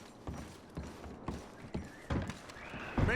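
Horses in Red Dead Redemption 2 clop along in a steady, quiet rhythm of hoof beats, with a short whinny near the end, heard faintly without talk.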